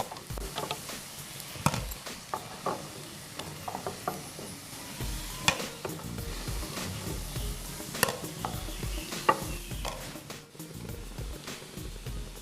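Maggi Manchurian balls frying in hot oil in a home kitchen, a steady low sizzle with scattered crackles and the clink of a stirring utensil, close and moderately loud with no talking.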